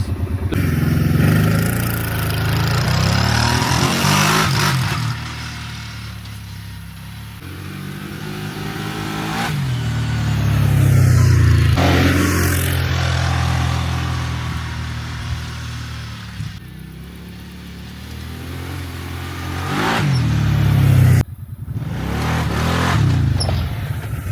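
Kawasaki Brute Force V-twin ATV engine revving in several short pulls, rising and falling between a lumpy idle and louder throttle bursts, close and strong.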